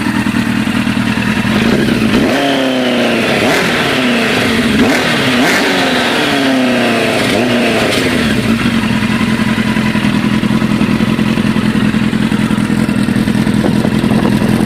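A 1997 Suzuki GSX-R 1100 motorcycle engine is revved close up in a handful of sharp throttle blips, rising and falling between about two and eight seconds, then drops back to a loud, steady idle.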